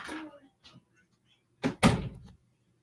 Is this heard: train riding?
no